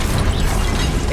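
An Incendio fire spell cast in the Hogwarts Legacy game produces a loud, dense, roaring burst of flame that fills the whole moment without a break.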